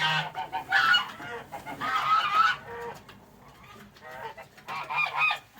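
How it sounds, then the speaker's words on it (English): A goose honks repeatedly in bursts, loud and close, with other fowl clucking around it in an evening setting among birds; brief quieter gaps come between the honking runs. "Oh, what's happened to the goose?"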